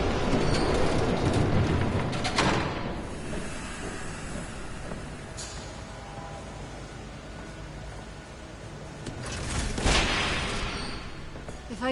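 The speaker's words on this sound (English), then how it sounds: "There's a train coming. Take cover." A train rumbles past in the Batman Telltale video game, a loud steady roar with a brighter rushing swell toward the end, filling the whole stretch without talk.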